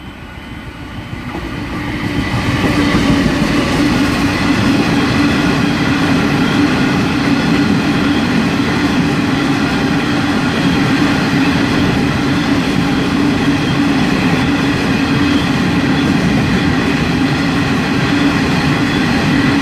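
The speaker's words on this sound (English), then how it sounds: "XP 2005 is the rear power car, XP 2018 is a front power car." An XPT passenger train with power cars XP 2005 and XP 2018 passes near Burradoo, a loud, steady roar of engines and wheels that builds over the first seconds and then stays close and sustained, with no talk.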